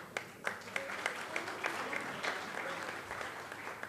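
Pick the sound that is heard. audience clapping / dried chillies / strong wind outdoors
audience clapping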